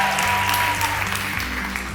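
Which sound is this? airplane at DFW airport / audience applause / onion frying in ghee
audience applause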